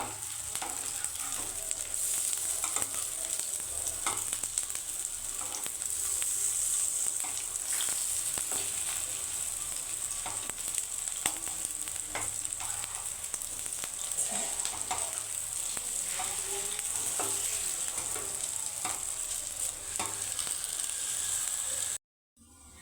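Masoor dal fritters frying in hot oil make a steady, dense sizzle that carries unbroken for about twenty seconds, with faint scrapes as they are gently turned, then it cuts off abruptly near the end.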